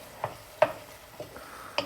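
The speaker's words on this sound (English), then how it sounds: "I've got onions, ginger, garlic and chillies in this pan. And I've had them frying for a good 5 minutes" Onions, ginger, garlic and chillies cook in oil in a pan, a quiet background sizzle broken by four or five sharp scrapes and knocks of a stirring utensil at irregular intervals, close by.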